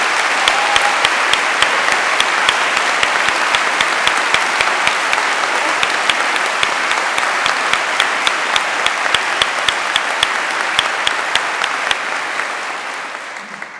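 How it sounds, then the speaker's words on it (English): Sustained applause from a large audience fills the hall at an Open University degree ceremony in London, dense and even with sharp individual claps standing out, continuing for several seconds before gradually tapering off. "So let's give them a round of applause."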